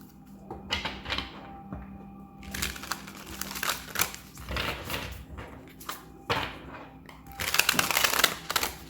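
Tarot cards being shuffled by hand, a stiff deck giving repeated crisp riffling, rustling and tapping bursts throughout, close up and without talk.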